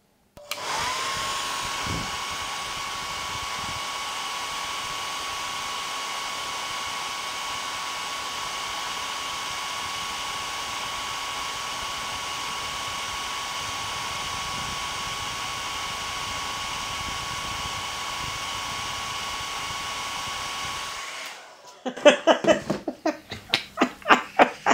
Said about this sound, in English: we're going to turn the hairdryer on